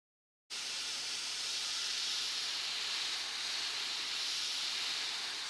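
Airbrush spraying paint on a T'au miniature, a steady broadband hiss that starts abruptly after a brief silence and holds continuously, fairly close and alone with no talk.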